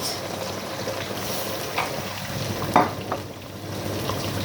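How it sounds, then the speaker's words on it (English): Chopped onions and tomato frying in a pan for mutton and potato curry, a steady close sizzle with a few brief stirring scrapes and no talking. "So I've got 3 medium onions going in."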